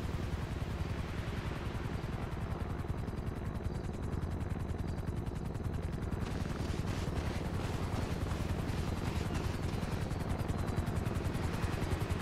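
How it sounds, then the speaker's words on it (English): Helicopter in Grand Theft Auto V, a rapid, continuous rotor chop that is loud and close and grows denser as the aircraft nears, with no voices over it. "A helicopter is on its way."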